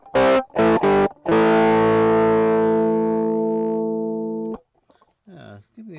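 Electric guitar run through a cheap distortion pedal on its turbo setting: three short, loud chord stabs, then one big chord left to ring and slowly decay for about three seconds before it is cut off, leaving near silence with a few faint clicks.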